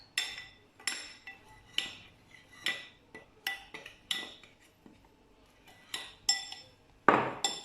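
Dry crepe ingredients with nutmeg being stirred in a bowl, a steady series of clinking taps of utensil against the bowl, close and fairly loud, with a sharper clatter near the end.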